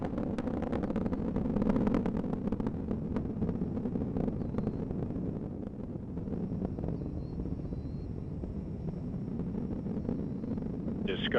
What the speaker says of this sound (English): Engines are now throttling down as the orbiter passes through the area of maximum pressure